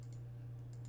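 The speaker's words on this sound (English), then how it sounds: "go up here, type in Wagner" Typing on a computer keyboard, a few quick soft keystrokes heard close over a steady low electrical hum.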